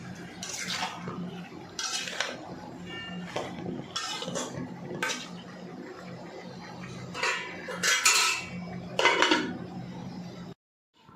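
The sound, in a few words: prawns being sautéed and stirred in a pan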